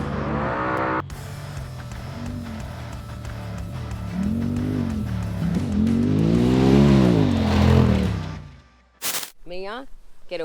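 A Patriot Campers Aussie Spec trophy truck runs on a dirt track, its engine roaring and rising through revs as it approaches and passes, loud at the peak, then cut off by a sharp burst and people talking.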